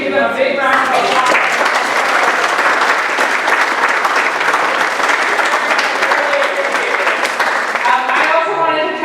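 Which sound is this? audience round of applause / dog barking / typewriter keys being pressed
audience round of applause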